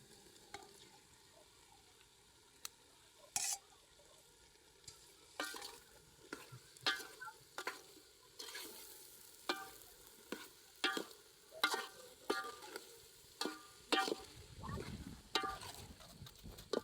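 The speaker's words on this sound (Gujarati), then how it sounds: "હવે આપણે નાખી દઈએ ડુંગળી. તળેલી ડુંગળી છે ને નાખી દઈએ" Fried onions stirred in a pan while cooking an onion curry, a rhythmic run of spatula scrapes and clinks over soft, steady sizzling that grows busier toward the end, with no talk.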